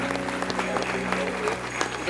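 A church congregation applauds during a Sunday celebration service, a steady wash of clapping beneath sustained musical tones, with a voice speaking over it.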